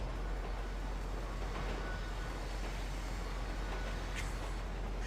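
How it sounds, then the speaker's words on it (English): Train ride in the GTA video game, a steady continuous rumble and rolling noise running loud throughout with a faint higher hiss near the end, no speech. "I love these trains. The fact that we can just ride around on them"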